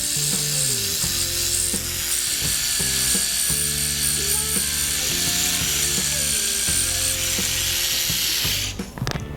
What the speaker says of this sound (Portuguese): Eu vou adaptar ele, vou lixar um pouquinho ele